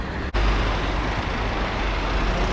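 Continuous city road traffic in Sochi in winter, with heavy vehicles like trucks and buses rumbling past at moderate distance and a brief dip near the start.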